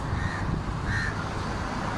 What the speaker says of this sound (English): Here you will see Mango, suddenly crow attack Mango, and he fly away.